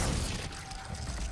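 A Glacius ice spell shatters in the Hogwarts Legacy video game: a brief, fairly quiet crackling burst of breaking ice amid low game ambience, with no talking.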